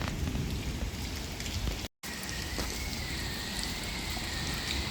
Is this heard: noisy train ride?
no